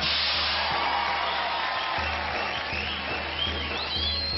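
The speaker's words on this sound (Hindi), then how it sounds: "जोरदार तालियां हो जाए इनके लिए।" Steady applause from a studio audience for contestants at the India's Got Talent pre-finale, a dense, even wash of clapping that holds at moderate loudness throughout with no talk over it.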